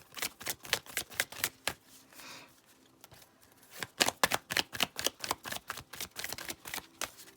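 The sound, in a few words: shuffling tarot cards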